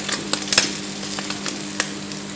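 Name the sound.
spam slices frying in a hot frying pan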